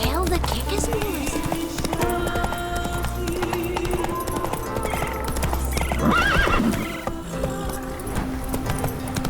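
Roach the horse from The Witcher 3 gallops in a steady clip-clop, with whinnies and neighs over game music and talk, loudest around the middle before the hoofbeats carry on.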